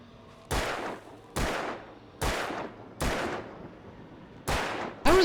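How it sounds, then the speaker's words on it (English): Gunshots in the video game Alan Wake: six loud, sharp blasts spaced roughly a second apart, each with a decaying echo tail, over a low steady background hum. "I did not mean to shoot"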